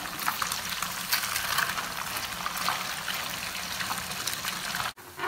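Fish pieces deep-frying in hot oil give a bright, dense sizzle that stays loud and close, with a small clatter just before the end.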